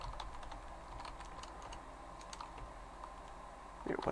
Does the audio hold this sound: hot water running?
no